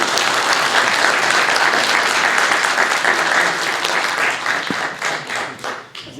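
Dense applause from an audience at a talk on aircraft engines, loud and sustained, then thinning into scattered claps toward the end.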